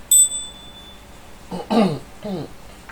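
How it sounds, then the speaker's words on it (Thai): A handheld fortune bell rings once, bright and near, at the start of a Thai fortune-telling session, its tone fading quickly; after a pause someone speaks a few short phrases. "ใครได้ยินเสียงกระดิ่งนี้ขอให้มีความสุขนะ"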